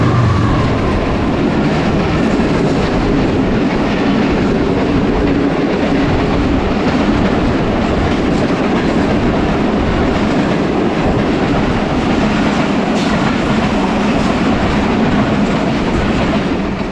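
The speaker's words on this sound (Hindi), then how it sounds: "ट्रेन को लेके जा रहा है।" The Karakoram Express passenger train runs at night between Karachi and Lahore, with a steady loud rumble of wheels on rails and faint clickety-clack throughout, heard from on board with no talk.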